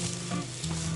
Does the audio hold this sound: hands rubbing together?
no